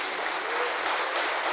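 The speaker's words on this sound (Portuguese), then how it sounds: "Aplauda, aplauda, aplauda" A church congregation applauds during a sermon, a dense, sustained clapping that fills the whole clip at steady loudness.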